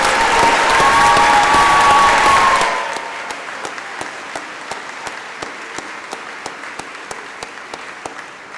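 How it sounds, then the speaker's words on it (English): Spring 2019 commencement audience applauds the graduates in a loud, full round of clapping that fades out after a few seconds, leaving sparse, quiet scattered claps. "Would all of you please join me in applauding the graduates?"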